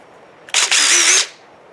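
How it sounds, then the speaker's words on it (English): A cordless drill fitted with a Bad Dog tool attachment whirs in a short burst of under a second, loud and close, with a brief stutter near the start before settling into a steady high whine. "So I'm going to connect the tool to my drill."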